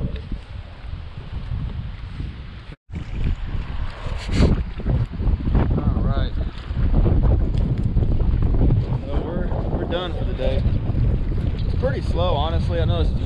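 Strong wind buffets the microphone with a constant low roar, heavy rumbling gusts, and a voice talking underneath the noise while crappie fishing from rocks.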